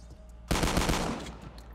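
AK-47 assault rifle in Call of Duty Mobile firing a quick automatic burst, loud sharp rapid shots starting abruptly and fading out over about a second.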